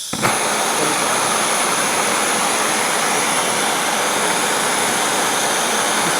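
A lampworking torch flame roars loud and steady, a constant broadband hiss and rush with no breaks, while a glass bead is spun in it.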